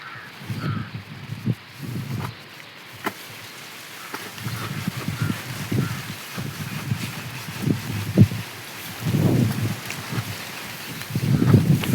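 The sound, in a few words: strong wind blowing outdoors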